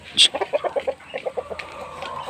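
Chickens cluck nearby in a quick series of short, rhythmic calls, opening with a sharper squawk and then trailing off.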